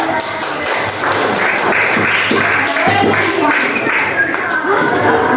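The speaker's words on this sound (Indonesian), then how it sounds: "kasih tepuk tangan dulu." A crowd claps steadily and fairly loudly throughout, with a dense patter of many hands and no clear break.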